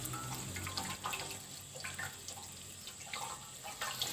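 Kulfa greens being washed under a running kitchen tap, a steady close gush of water with splashes and drips as the leaves are handled, no speech.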